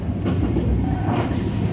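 A passenger train rolls along the coast toward Da Nang in Vietnam, giving a steady loud interior rumble with faint rhythmic clatter from the wheels. No one speaks.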